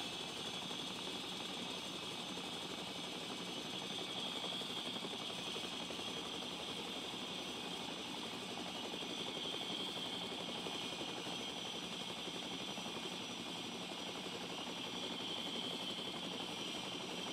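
A helicopter flies in The Front survival game on a desert map, giving a faint, constant engine and rotor drone that stays even for the whole stretch, with no talk.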